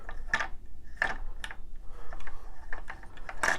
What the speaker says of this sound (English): So if I just unscrew the adapter